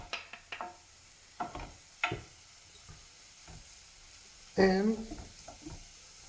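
Onions, garlic and dry ingredients frying in oil give off intermittent sizzles and stirring scrapes, close and fairly soft, with one louder hissing burst midway; a voice speaks briefly over it.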